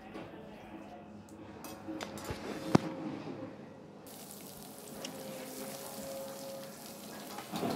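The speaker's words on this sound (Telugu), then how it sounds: "ముందుగా కట్ చేసి పెట్టుకున్న ఉల్లిపాయ ముక్కల్ని తాలింపులో వేసుకోవాలి" Onion pieces drop into hot tempering oil for an eggplant and chana dal curry, setting off a steady, close hiss and sizzle that runs through the whole stretch, with one sharp clink near the middle.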